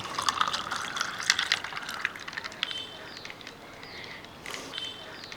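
Lemon juice splashes and trickles steadily into a glass, a soft, close pouring sound that fades near the end.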